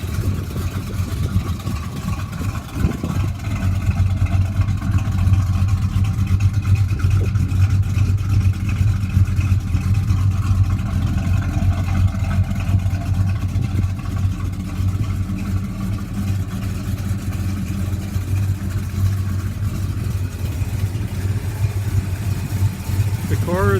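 A Chevy small block 350 V8 of about 300 horsepower idles steadily in a car, heard from the rear as a continuous low, even rumble, with a voice speaking now and then over it.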